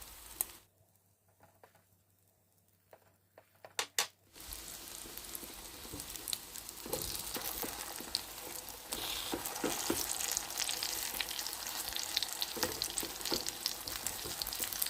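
Perilla leaf pancakes fry in a pan over low heat; after a few quiet seconds with light clicks, a steady crackling sizzle rises and continues, dense and close.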